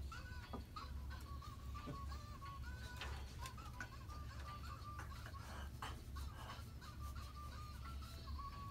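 A chicken clucking sound effect played on a car-repair radio show, repeated quick clucks and honk-like squawks in a choppy rhythm over a low background hum.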